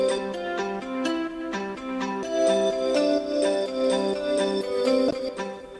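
Plucked guitar-style synth preset plays a bright melodic line of short, sharp notes in a steady rhythm, close and clear with no voices.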